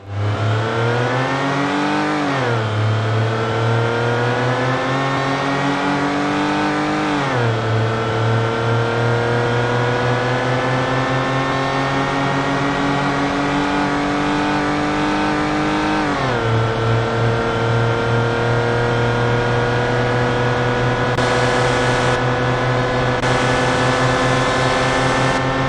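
A car engine's exhaust note in the BeamNG video game during a top speed run, loud and continuous, with pitch climbing through several gear changes and settling into a steady high-speed drone.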